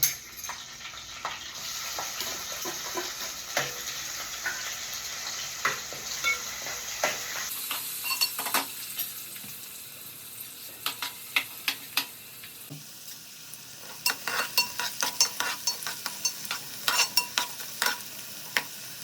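Chopped onion frying with green chili and curry leaves in a pan for a mutton masala, with steady sizzling, occasional sharp crackles and spoon-stirring scrapes close by.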